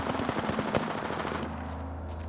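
Rapid automatic gunfire in the Apex Legends video game, a quick string of sharp shots for over a second, then trailing off into a lower rumble, moderately quiet overall.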